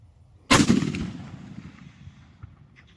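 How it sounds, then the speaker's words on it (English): A rifle shot fired in quick succession at a long-range target cracks loudly once and rolls off into a long fading echo, with a faint second report near the end. "I know this is fast shooting"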